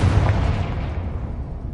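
A fiery Confringo blast spell in Hogwarts Legacy erupts as a heavy booming burst with a deep rumble that fades over a second or two.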